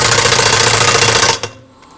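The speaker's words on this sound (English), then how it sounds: "I'm hoping that compressor's not too loud," An air compressor runs loudly during mounting of a 20-inch LMTV double bead-lock tire rim, a rough pulsing mechanical chug that stops abruptly near the end, leaving a faint fading hiss.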